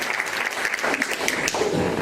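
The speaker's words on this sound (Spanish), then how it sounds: "Fuerte el aplauso." A church congregation claps in a sustained round of applause during a sermon, dense and steady for the whole moment, with no speech over it.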